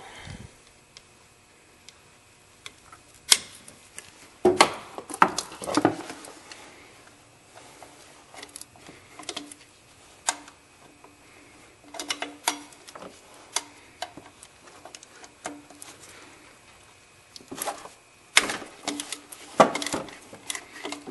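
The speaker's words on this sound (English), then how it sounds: "And what I use is a ratcheting wrench." Ratcheting wrench working a bolt loose under a Toyota during a drive belt replacement, giving quick clicking runs and sharp metal taps in bursts separated by quiet gaps, close and fairly loud.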